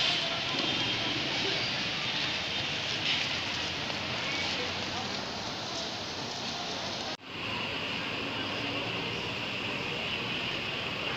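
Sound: rain falling

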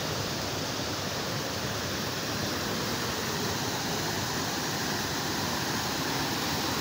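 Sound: waterfall

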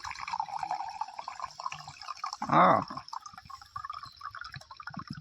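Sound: coconut water poured from a fresh coconut into a glass

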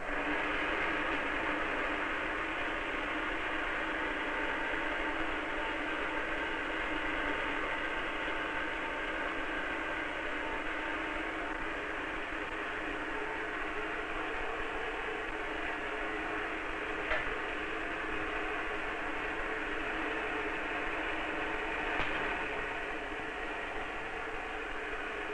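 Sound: electrostatic charging machine running

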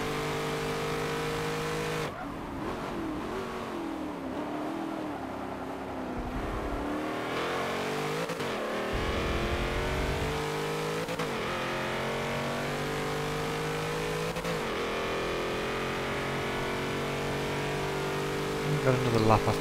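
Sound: race car engines revving in a racing video game, Camaro behind

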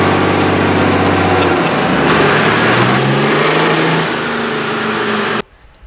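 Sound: car engine on a dyno run without foot brake

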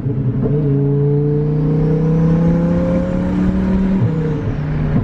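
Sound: twin turbo Lamborghini Huracan engine revving while downshifting

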